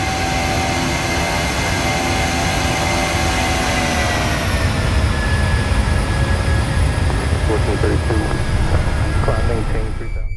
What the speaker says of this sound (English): As the FedEx plane prepares to land, the Southwest plane prepares to take off at the perfect time